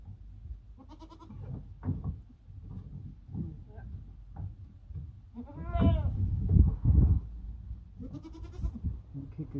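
A Savanna goat bleats several times in a farm pen, near and fairly loud, with calls spread across the clip among shuffling, knocking and soft background voices.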